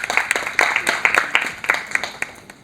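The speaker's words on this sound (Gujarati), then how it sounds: "તો બધા એકબીજા માટે તાળીઓ પાડો પ્લીઝ" An audience at a women's talent show claps in a light, scattered burst of individual hand claps, moderately near and fading toward the end.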